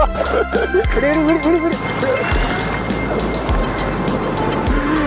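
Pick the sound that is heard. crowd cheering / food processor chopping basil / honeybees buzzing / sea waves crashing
sea waves crashing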